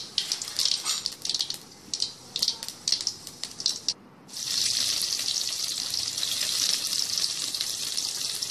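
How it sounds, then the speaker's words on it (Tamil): Fennel seeds crackle and spit in hot oil after cloves for a South Indian eggplant fry, bursts of sharp sputtering that settle into a steady, close sizzle after a short pause. "கிராம்பு பொரிஞ்ச உடனே சோம்பு போடுறேன்."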